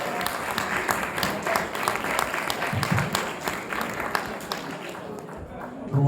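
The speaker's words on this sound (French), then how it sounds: "On l'applaudit." A crowd applauds at the awards ceremony of a public-speaking contest final, sustained loud clapping from many hands with sharper individual claps standing out. A thump is heard at the very end.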